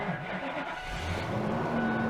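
A bare-bones Ford gas truck, probably with the 5.4 Triton V8 and no exhaust leak, idles nearby at an equipment auction, a steady low rumble with a slight rise in pitch toward the end.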